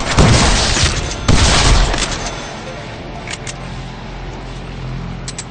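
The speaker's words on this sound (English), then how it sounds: "Now I have a machine gun." Machine gun fire in the Deadpool video game, loud bursts of rapid shots at the start and again around a second in, fading into a softer rumble of continued firing and game noise.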